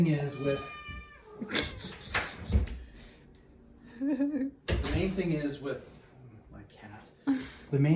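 A cat meows several times, close by, between bursts of a person talking.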